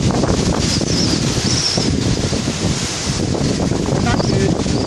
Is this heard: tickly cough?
no